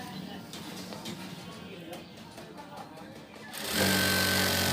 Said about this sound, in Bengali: দুই সাইড সেলাই দিয়ে আমরা দিয়ে নেব।